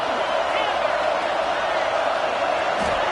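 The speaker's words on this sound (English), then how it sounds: "this crowd is fired up" A football stadium crowd at an Alabama game roars early in the contest, a dense, steady wall of cheering and noise that holds without a break.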